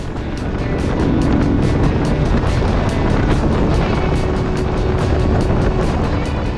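A motorcycle cruises along a road on a sunny day, its engine a steady continuous drone mixed with heavy wind rush over the microphone, loud and unbroken throughout.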